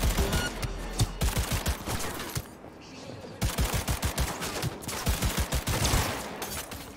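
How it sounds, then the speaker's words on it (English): Rapid bursts of gunfire from a firefight in the video game Cyberpunk 2077, loud and close, with sharp repeated shots in clusters separated by a brief lull. "I'm going to shoot this guy down here."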